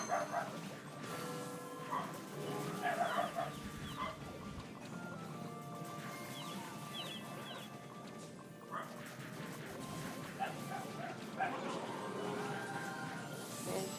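Several dogs bark and yip in the game Ragnarok X, short repeated barks and whimpers over a busy mix of game music and effects, with people talking throughout.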